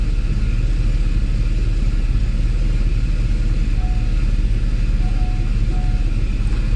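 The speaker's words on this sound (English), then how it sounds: "Let me start it one more time. My point is the idle speed." A Mercedes SL R129 engine with newly repaired throttle bodies idles steadily, a loud continuous low rumble that holds even throughout, with faint brief tones drifting in near the end.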